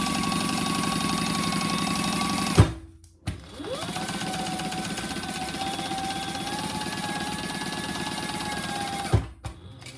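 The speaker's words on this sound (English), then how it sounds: "I'm sewing the bottom in place" A sewing machine stitches the bottom seam of a curved handbag, running steadily with a brief pause around the third second and another near the end, close and loud with no talking.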